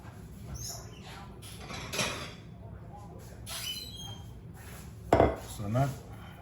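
A knife clinks against a plate and pan while a slice of bacon pound cake is cut, with a few sharp scraping knocks and soft clatter, quiet and close.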